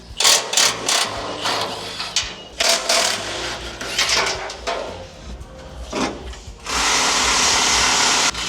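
Hand tools work on the factory intrusion bar bolts under a GWM Tank 500, with repeated metallic clanks and ratcheting bursts, then a steady loud whirring near the end.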